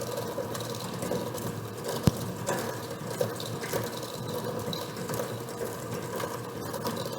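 A hand mixer whirs steadily as it creams butter and sugar for chocolate chip cookie dough, a continuous close mechanical buzz with faint clicks.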